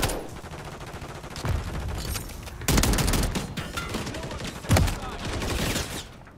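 Automatic shotgun in Call of Duty Modern Warfare 3 fires in loud, rapid bursts of heavy blasts that dump a full magazine, with dense gunfire and booming shots layered over a busy game mix.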